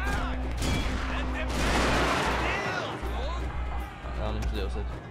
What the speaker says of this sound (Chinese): 让他们自由射击